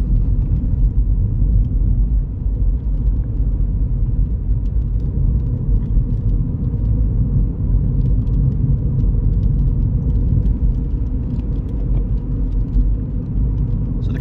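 Inside a Mini Cooper cruising at about 30 mph, a low, steady road-and-engine hum fills the quiet cabin without a break, and no voices are heard.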